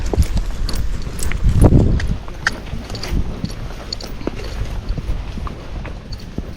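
Young Rocky Mountain horse being ridden at a walk, hooves clip-clopping close by in an uneven rhythm with some rustling and tack noise.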